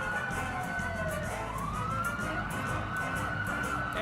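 NYPD motorcycle escort sirens wail during the Macy's Thanksgiving Day Parade in Manhattan, a steady rising and falling siren tone sounding continuously over crowd and street noise.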